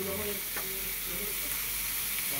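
Butter and garlic sizzle steadily in a hot pan, a close, constant crackling hiss with faint background voices.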